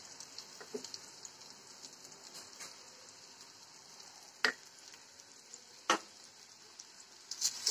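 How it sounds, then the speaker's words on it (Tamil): Ingredients for a raw banana fry sizzling in a pan, a faint steady hiss of oil with small crackles and a few sharp ticks and taps of a utensil, quiet and unaccompanied by speech. "இது நல்லா அப்படியே வறுத்து எடுத்துக்க"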